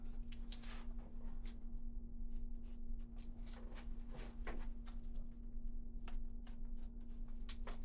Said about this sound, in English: if your stockinette's long like this, you can just trim it